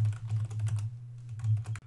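Someone types a material name on a computer keyboard, producing a close, rapid flurry of soft key clicks with a brief pause midway, over a low steady hum.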